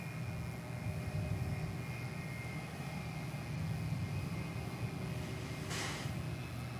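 An American Airlines jet departs DFW Airport bound for Fresno, heard as a steady, fairly distant engine rumble that holds constant, with a brief burst of hiss near the end and no speech.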